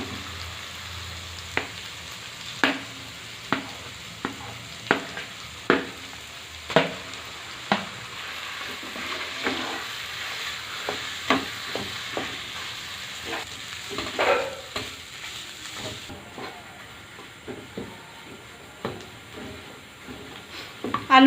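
Boiled potatoes are stirred and fried in a spice masala for aloo puri filling, with a steady sizzle punctuated by repeated scraping strokes of a spoon against the pan, close and moderately loud, no talking.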